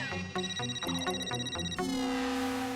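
A phone rings for an incoming call with a bright, rhythmic electronic ringtone, a series of quick repeated tones followed by a longer sustained passage. The ringing is clear and close, with no talking over it.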